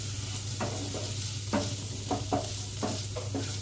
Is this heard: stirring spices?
yes